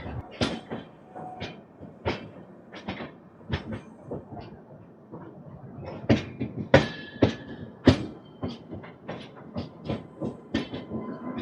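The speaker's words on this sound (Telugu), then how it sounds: "లోకోమోటివ్ అయితే వెళ్తుంది స్టేషన్లోకి" A locomotive hauls the Andhra Pradesh Superfast Express into Visakhapatnam station, its wheels clattering over rail joints in a steady series of sharp, irregular clacks, moderately near and alone.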